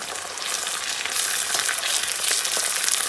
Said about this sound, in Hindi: तो इनको भी दरमियानी आंच पे हम लोग फ्राई करते हैं।